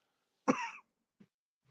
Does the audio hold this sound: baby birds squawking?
no